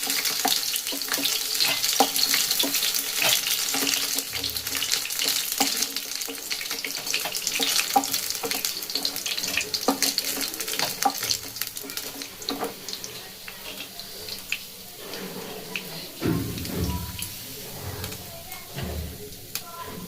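Chicken posto pakoras sizzle and crackle as they fry in hot oil, a steady close hiss with clinks of utensils and stirring throughout, and a voice speaks briefly over it.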